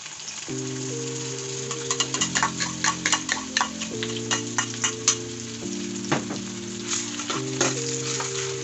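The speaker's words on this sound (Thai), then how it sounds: "พอใส่น้ำมันลงไปนะครับผม เป็นการเอาหอมลงไปเลยนะกด" Shallots sizzle and crackle in hot oil, a steady frying hiss dotted with rapid sharp pops and spatters, heard close and alone while a sustained background tone shifts pitch behind it.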